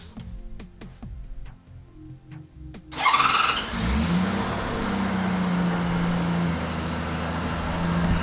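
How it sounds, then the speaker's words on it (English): A motorcycle that would not start before, cranking slowly and then catching after a boost from a Hulkman Alpha A85S jump starter, followed by a steady idle with a faint whine, close and loud with no speech. "Let's give it a try and see if it starts."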